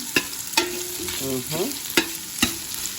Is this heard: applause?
no